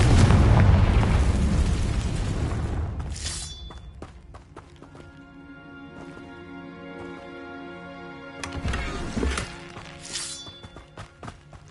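Confringo and Bombarda spells in Hogwarts Legacy detonate as loud booming blasts, one heavy burst at the start rolling off into ringing debris, then a second explosion later, with game sounds between and no talk.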